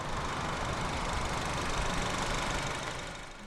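A 2015 Honda HR-V 1.8 with the R18A1 naturally aspirated inline-four i-VTEC engine idles just after start-up, a steady close-up mechanical hum with a fine ticking texture that eases slightly at the end.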